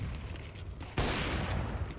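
Gunfire in a competitive tactical shooter match, Counter-Strike style with MP9 submachine guns, starting at about one second as a loud dense burst of rapid shots that keeps crackling over steady background game noise.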